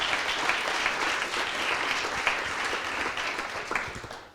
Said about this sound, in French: on va les applaudir puisqu'ils le méritent.